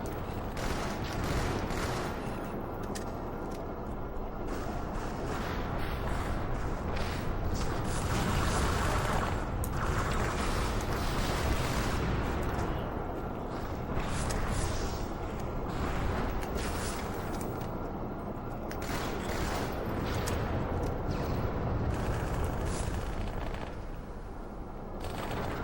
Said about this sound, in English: Gamer guy just letting grenades go.